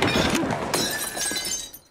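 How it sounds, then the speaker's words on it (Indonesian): A ceramic cup is hurled to the floor in a film scene and shatters with a loud crash, followed by scattered clattering shards that trail off within two seconds. "menghempaskan cangkir itu hingga pecah jatuh ke lantai"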